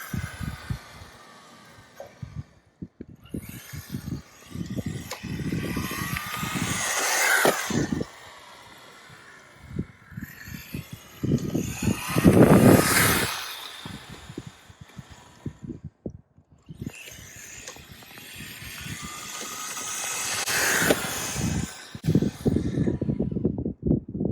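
An MJX Hyper Go 14302 rally RC car at 70% throttle on high-grip tires, with whining electric motor bursts that rise and fall alongside rattling and clattering of the chassis, loud and close.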